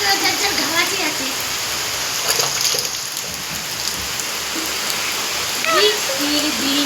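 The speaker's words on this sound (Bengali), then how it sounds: "দেখো বন্ধুরা কত জোর জল পড়ছে" Heavy rain pours down in a dense, steady rush of water that stays loud throughout, while someone talks over it at the start and end.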